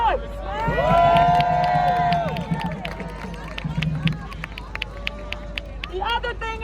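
A protest crowd on a New York City street cheers, whoops and shouts in a loud swell that fades into scattered calls and general hubbub, with crowd voices continuing throughout.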